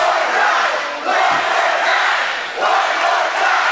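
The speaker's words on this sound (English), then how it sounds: "Oh, this crowd is sadistic." Wrestling arena crowd at a televised show roaring and shouting in loud continuous waves, with brief dips between surges of cheering and yelling, dense and close throughout.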